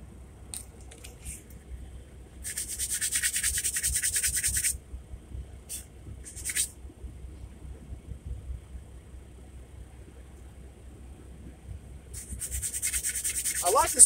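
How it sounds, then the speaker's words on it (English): Menards wood being sanded by hand for an O scale model kitbash gives rhythmic, close scratchy rubbing strokes. They come in several bursts separated by quiet pauses, with no talking. "I like this Menards wood. It's actually very easy to sand."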